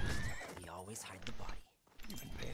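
A horse in the Western stealth game Desperados III whinnies in short harmonic bursts, with clip-clop hooves and speech over much of it.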